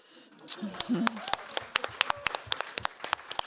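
Clapping from an audience at a panel event on climate justice, breaking into a burst of applause with sharp, irregular hand claps that stay steady and fairly close for several seconds.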